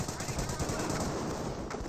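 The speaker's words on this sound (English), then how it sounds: "Grenadiers seem to fire." Grenadier rifle fire in the Company of Heroes video game, rapid crackling gunshots in a dense, continuous stream of battle noise, with speech faintly underneath.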